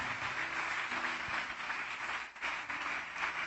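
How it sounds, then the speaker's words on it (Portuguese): Congregation clapping in a church service, a continuous wash of applause at moderate level with faint background voices. "Vamos aplaudir o Senhor Jesus"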